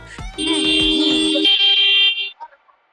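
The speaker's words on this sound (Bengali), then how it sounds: "আস্তে হর্ন বাজা।" A motorbike horn blares in one sustained, loud, high-pitched honk lasting about two seconds, then cuts off, leaving a couple of faint trailing blips.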